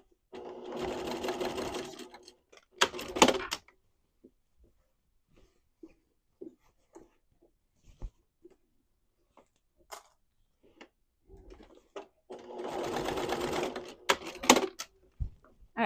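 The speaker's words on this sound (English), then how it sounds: "I'm going to go ahead and baste mine on real quick so they don't move around." A sewing machine bastes loops onto a fabric tote bag in two loud bursts of rapid whirring stitching, near the start and again near the end, separated by quiet handling clicks and rustles.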